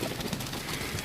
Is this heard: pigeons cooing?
yes